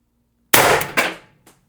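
A single sharp, loud report from an Umarex TR50 air rifle firing shaped pellets, with a quick metallic clack right after and a faint tick as it fades, close and alone.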